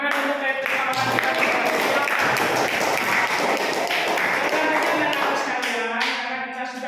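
Classroom students clapping for their classmates, a dense, lively burst of many hands close by, sustained for several seconds and tapering slightly at the end, with a few voices mixed in.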